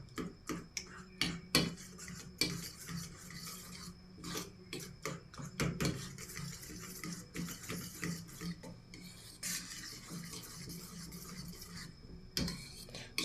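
Eggs for an omelette are mixed with a utensil in a bowl, giving close, irregular scraping and clicking strokes in quick uneven bursts with brief pauses.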